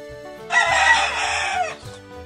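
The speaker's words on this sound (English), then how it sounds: "The chicken says." A rooster gives one full cock-a-doodle-doo crow, loud and near, over a quiet music bed.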